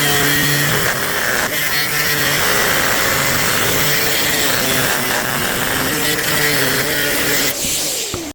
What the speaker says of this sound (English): just clean that end up with grinder, just with a flap disc